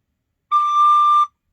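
A single soft, breathy recorder note with only the second hole from the top covered, held steadily for under a second in an otherwise silent room.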